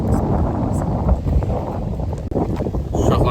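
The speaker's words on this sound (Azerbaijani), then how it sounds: "Bura hündür bir nöqtə olduğuna görə dəhşət çox küləklidir." Strong gusting wind buffets the microphone at a high viewpoint in Xanbulan, a loud continuous rumble with brief dips and surges.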